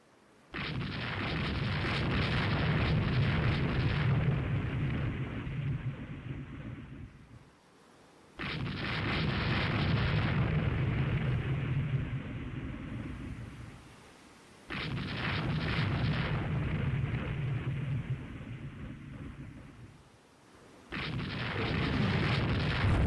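Naval gun salvos from warships in the naval strategy game Rule the Waves 3, four heavy booming bursts in steady succession, each rumbling for several seconds before a brief gap, loud and without talk.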